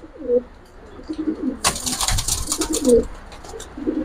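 Gribaaz silver pigeons coo in a loft, several soft rolling calls close by, with a burst of wing flapping or rustling in the middle.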